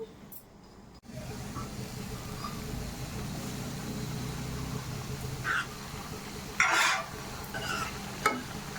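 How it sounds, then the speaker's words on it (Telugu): A ladle stirs pumpkin curry with jaggery in a pan, with a steady sizzle under scraping strokes and a few louder metallic clacks close by. "ఒకసారి గరిటెతో కదిపి గరిటెతో తిప్పి"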